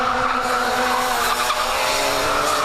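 Racing cars on the last lap of a race, engines droning loudly and continuously with a hint of tire squeal, a steady mechanical roar with no talk.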